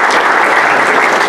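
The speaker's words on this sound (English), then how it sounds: "we can clap for Colby anyway" Steady applause from an audience at a county board of education meeting, a brief, dense burst of many hands clapping at constant loudness.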